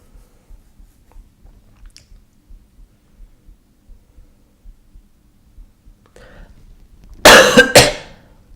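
A loud burst of coughing breaks out near the end, harsh broadband and close, after several seconds of near silence with faint soft thumps.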